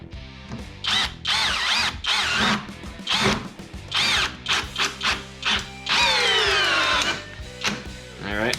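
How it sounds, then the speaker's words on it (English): A brushless 20V drill fitted with a nut driver adapter and 7/16 socket drives a quarter-inch lag screw in loud, repeated motor bursts that rise and fall in pitch, with short pauses between pulls. "I'm gonna put their nut driver with the adapter and a 7/16 socket, and we'll try to drive this lag screw in"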